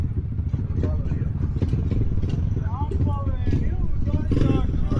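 A small pit bike's engine idles and revs nearby outdoors, a steady buzzing drone with mechanical clatter, while people talk over it.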